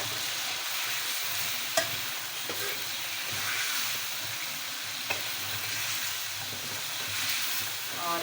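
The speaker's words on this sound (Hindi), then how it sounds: "लहसुन अदरक डाल के अच्छी तरह इसको दोबारा से भूनें" Chicken fries with garlic and ginger paste in a steady, dense sizzle, with a few sharp clinks of stirring, close and continuous throughout.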